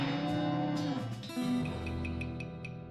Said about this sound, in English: Sad cow noise.